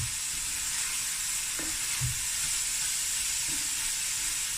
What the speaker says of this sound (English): Okay, so we're gonna let this fry.